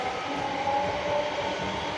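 A Glasgow to Edinburgh passenger train rumbles past at steady volume, with a faint squealing tone riding over the continuous rolling noise and no talk.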